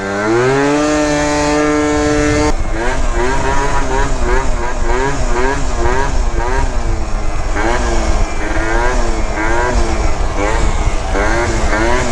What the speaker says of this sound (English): I can hear sputtering really bad in the top end, and then once I let off, I hear it in the bottom end.